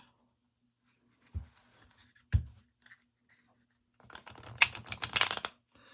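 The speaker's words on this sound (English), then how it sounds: "Let me show you how it shuffles." Two soft taps, then a quick riffling flutter of thin, flimsy tarot cards being shuffled up close, brief and crisp.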